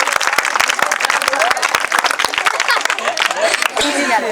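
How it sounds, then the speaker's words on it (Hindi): A crowd claps and applauds loudly and densely for a contestant at a football-into-tyre goal challenge, a continuous wash of hand claps with voices talking over it. "चलिए जोरदार ताली मारिए एक बार इनको लिए।"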